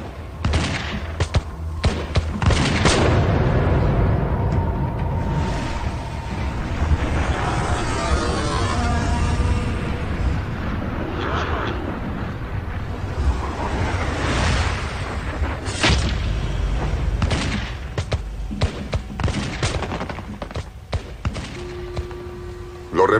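Musket volley gunfire at the Battle of Lexington: several sharp, loud booming shots burst out at intervals over a dense, noisy battle din, with voices talking and shouting throughout.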